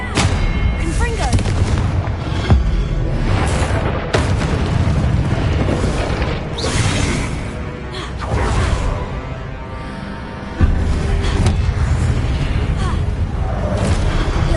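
Confringo spell blasts in Hogwarts Legacy boom and burst in heavy succession, deep explosive thuds and whooshing fire over a loud, continuous battle din, with voices heard amid the combat.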